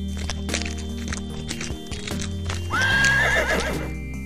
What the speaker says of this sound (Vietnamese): Có tiếng ngựa cậu ơi.